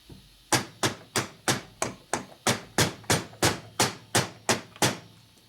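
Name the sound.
lightly tapping a washer into a Harley Sportster transmission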